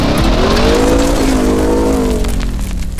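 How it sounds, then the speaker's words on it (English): A Ford Raptor R pickup doing a burnout on pavement: tires shriek in a loud, sustained squeal over the roaring, revving engine, very close throughout. "That thing will do a burnout on pavement too."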